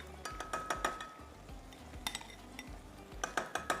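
A spoon stirs a nihari mixture in a pot, scraping and clinking against the sides in repeated quick strokes, fairly faint and close, with no talking.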